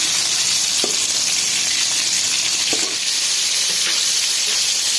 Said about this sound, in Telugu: రెండో పక్క మళ్ళీ తిప్పుకొని ఈ టమాటాలని ఫ్రై చేసుకోవాలి